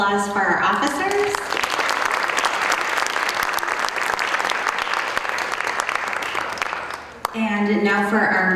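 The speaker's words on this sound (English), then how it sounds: "Another round of applause for our officers." Sustained applause fills a school induction ceremony hall for the officers, steady and dense clapping from a seated audience, with a speaker's amplified voice at the start and end.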